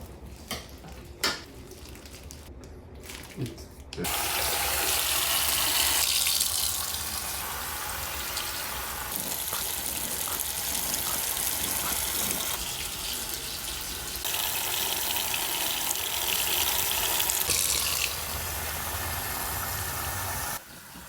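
Water runs steadily over a head being washed at a hair transplant clinic in Turkey, a loud continuous rushing stream after a few quieter seconds of handling, with brief shifts in the flow.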